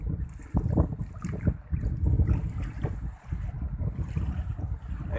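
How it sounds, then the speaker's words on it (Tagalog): Strong sea waves slosh and crash around a small boat in rough weather while heavy wind buffets the microphone, a loud, continuous turbulent roar with surging bursts. "Malakas ang alon."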